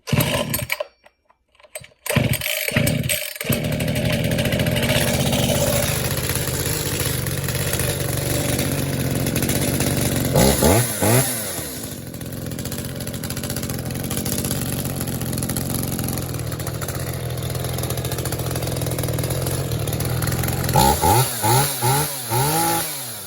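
A used chainsaw is pulled and started after a couple of sharp rope pulls, then idles and runs steadily up close, its engine note rising and falling in repeated revving sweeps.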